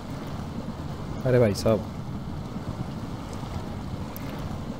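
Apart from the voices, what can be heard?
truck driving through water in mud test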